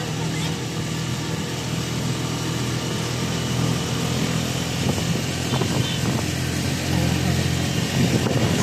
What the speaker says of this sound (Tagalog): Hirap na hirap ng makina niyan, Jay